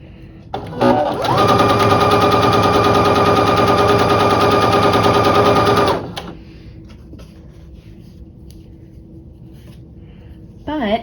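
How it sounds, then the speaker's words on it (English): A sewing machine runs a quarter-inch seam on quilt triangles, one loud, steady, rapid mechanical whir lasting about five seconds, then stopping, followed by quiet handling sounds. "So I'm just gonna sew 1/4 inch on these."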